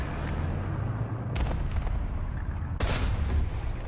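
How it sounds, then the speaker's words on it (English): Rumbling booms and crackling blasts of an artillery strike in a tank combat video game, loud over constant engine drone, with two heavy impacts. "I'm calling it an artillery strike."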